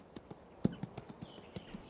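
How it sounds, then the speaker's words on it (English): Hooves of an unhandled two-year-old quarter horse stud on a Northern California ranch clip-clop in a steady, fairly close series of sharp, evenly spaced steps, with no voices. "This 2-year-old quarter horse stud, born on the open range, has never been handled."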